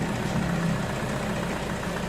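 A Toyota Hilux pickup engine with an oil leak and low power idles steadily with a low, even rumble and no voices.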